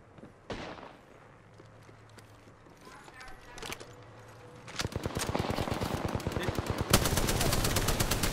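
Gunfire in the video game Apex Legends starts as a few sharp, isolated shots, then breaks into rapid, loud automatic bursts. The bursts continue steadily through the final seconds.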